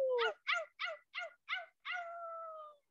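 A parrot imitates a coyote with five short, evenly spaced yips followed by a longer drawn-out howl, close and fairly loud with no talk over it.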